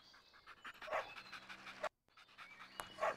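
A dog pants steadily in a miniature golf video game, quick rhythmic breathy huffs running throughout at a moderate level, broken by a brief silent gap.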